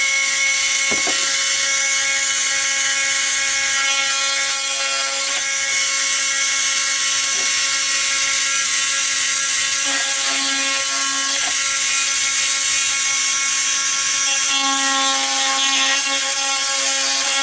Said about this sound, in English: when you penetrate your Dremel tool inside your hole, just go back and forth.